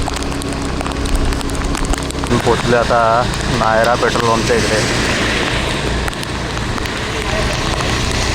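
Heavy monsoon rain hisses steadily on a Nalasopara street near a petrol pump, loud and close throughout. Someone speaks over it partway through.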